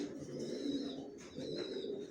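Young racer pigeon chicks of a long-body breed cooing softly and continuously nearby, two brief runs of low warbling coos with a faint higher chirp above.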